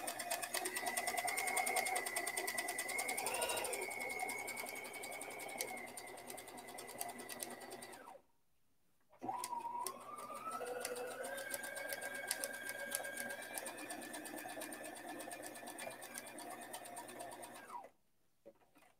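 A sewing machine runs steadily while stitching a tight zigzag in free-motion embroidery on a shirt collar held in a hoop. Two long continuous runs of whirring hum are separated by a brief pause, and the machine stops near the end.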